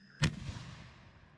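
Fireworks going off: one sharp, loud bang at close range, followed by a rumbling tail that fades into background noise.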